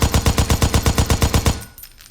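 SCAR-H rifle fire in a video game: a loud rapid automatic burst of about a dozen evenly spaced shots in under two seconds, then a brief decaying echo.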